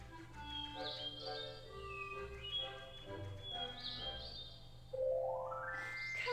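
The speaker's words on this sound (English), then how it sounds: "Hey, look, it's a little bird." A cartoonish sparrowmint chirps in the Viva Pinata garden game, with repeated short tweeting calls over a steady low music bed, followed by a rising musical flourish near the end.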